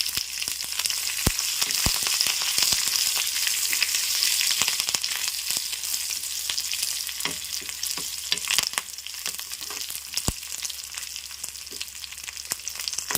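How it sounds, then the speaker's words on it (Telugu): Vakkaya (karonda) and dal ingredients fry steadily in a hot pan, a continuous oily sizzle with occasional sharp pops and crackles, close and fairly loud with no voices. "చూసారు కదండి, చక్కగా వేగిపోయింది"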